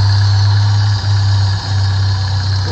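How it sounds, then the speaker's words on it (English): A car engine idles steadily and close by after the fuel pump relay has been pulled, a strong low hum running on its residual fuel pressure with a couple of brief dips, and no voices. "We're going to ask the student inside the motor vehicle to turn the engine on."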